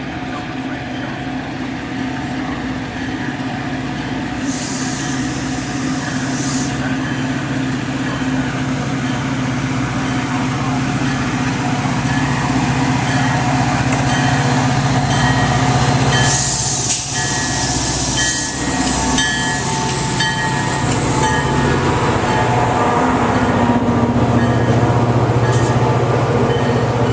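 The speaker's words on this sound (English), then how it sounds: "The next outbound Metra train from Chicago is now arriving in your station." Metra MP36 locomotive pulling outbound commuter train 2147 into Grayslake station: a loud, steady rumble of engine and rolling cars with bursts of horn and hissing brakes, heard close up without talk.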